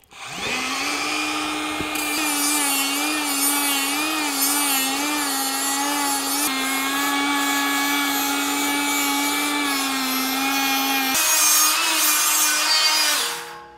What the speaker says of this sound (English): I switched over to a one inch flapper wheel so I can get in here and start fine tuning it, buffing it up